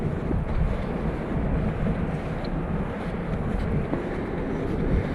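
Steady wind blowing across a snowy hiking trail in a 10 to 11 mph breeze, a constant loud rumbling roar buffeting the microphone without pause.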